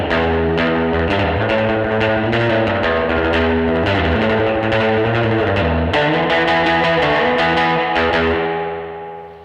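An electric guitar played through a Carl Martin Headroom pedal rings out in a string of drenched, twangy surf-reverb notes and chords with a washy tail, loud and alone, fading out at the end.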